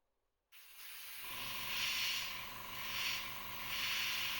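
Spray paint hisses through a stencil onto a fishing lure, close and fairly quiet, starting abruptly after a silent half second and swelling in three soft pulses.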